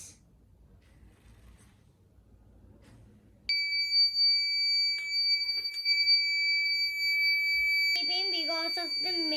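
A bomb detector robot car beeps as it passes over metal buried underneath: a steady, piercing electronic tone that starts abruptly and holds for several seconds, followed by a voice at the end.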